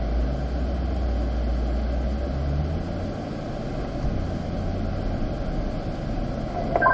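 A race car engine rumbles steadily at low speed on a smooth track out lap in manual mode up to third gear, a continuous droning hum heard from inside the car, with the pitch shifting slightly as gears change.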